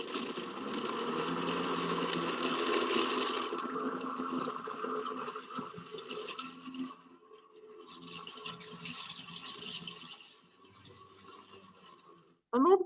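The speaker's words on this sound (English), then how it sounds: "kind of like what I'm going to show you with a vacuum blower." Vacuum blower mulching leaf litter, a loud steady motor whine with a grinding edge for several seconds, then easing lower and quieter before cutting out near the end.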